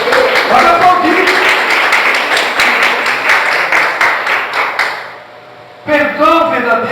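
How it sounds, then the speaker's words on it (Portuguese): A church congregation applauds in a dense, steady wash of clapping for about five seconds, then it drops away and a voice resumes speaking. "Pode aplaudir."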